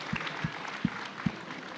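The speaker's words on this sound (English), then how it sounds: "Everyone, please, a round of applause for Dom." Conference audience clapping, only a few sparse, distinct claps in a brief, thin round heard from the room, no cheering.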